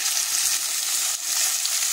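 Onion and tomato sizzle and fry steadily in a pan, a continuous bright crackle with no talking and only a brief dip in intensity partway through.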